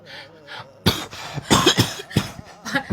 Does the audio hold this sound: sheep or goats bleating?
no